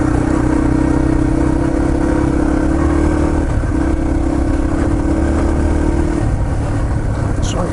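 Motorcycles race at Windrock Park, a loud continuous engine drone with a steady held tone and a shift in pitch partway through, close and unbroken with no talk over it.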